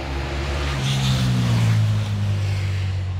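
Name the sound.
motorcycle passing by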